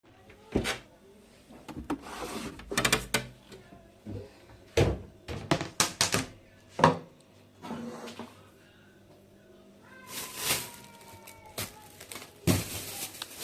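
Corn cobs chopped in half with a knife on a board in a home kitchen, a series of sharp, close wooden thunks and knocks spaced irregularly, with brief rustles between them.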